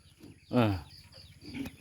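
Backyard chickens kept in a pen cluck and squawk nearby, one louder drawn-out call standing out among softer clucks, with no talk over it.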